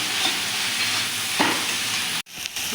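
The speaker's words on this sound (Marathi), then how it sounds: "हाय फ्लेमवरती आपल्याला 1 मिनिटभर छान अशा भाज्या परतून घ्यायच्या आहेत" Vegetables for egg fried rice stir-fried over a high flame, with loud continuous sizzling and a few stirring scrapes in the pan; the sizzle cuts off abruptly near the end, then resumes more quietly.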